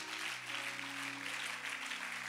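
A church congregation applauds during a sermon, a dense, even wash of clapping that holds steady over a low hum of sustained tones.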